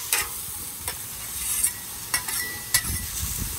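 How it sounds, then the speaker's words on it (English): Peppers and onions caramelize on a new flat top grill, giving a close, even sizzle broken by several short spatula clacks and scrapes, with no voices. "Got some nice caramelization going on with the peppers and the onions."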